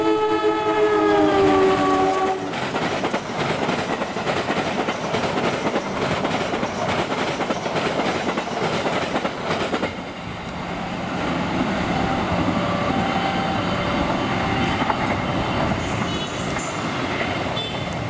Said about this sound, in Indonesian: Karena Jor 2-nya akan langsung lewat kereta api Airlangga.